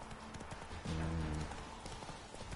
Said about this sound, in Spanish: El caballo más peligroso de todos los reinos.